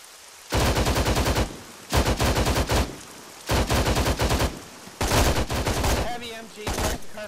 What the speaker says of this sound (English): Heavy MG, careful.